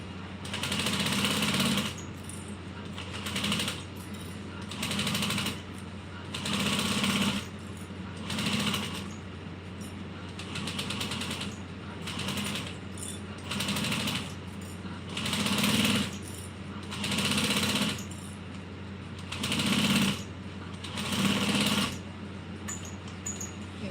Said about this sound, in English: I'm just top stitch or basting this down at 1/8 of an inch all the way around